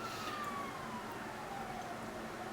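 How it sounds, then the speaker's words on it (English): Police sirens wail steadily at a distance, a thin sweeping tone riding over constant road and traffic noise, with no talk. "police sirens"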